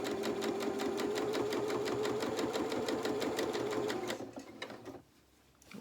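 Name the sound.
sewing machine top stitching fabric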